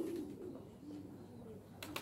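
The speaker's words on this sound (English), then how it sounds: "these pigeons right here, this is my passion right here, the homers." Homing pigeons, racing homers in a loft, coo softly in a low, throaty warble. The call is faint and close, with a brief higher chirp near the end and no talking.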